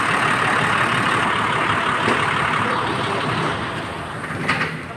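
A Sinotruk HOWO 10-ton dump truck idles with a steady, even diesel drone close by, holding constant for the whole stretch with a slight swell near the end, and no one talking.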